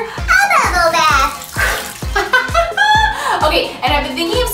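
Water splashes and sloshes in a bubble bath in short repeated bursts, with a voice talking over it.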